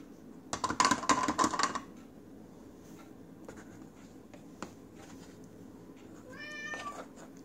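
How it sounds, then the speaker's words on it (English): A pet cat named Romeo gives a short meow near the end, preceded by rustling, tapping and scraping sounds in a quiet kitchen. "my munching cat Romeo is saying hello out there to everybody"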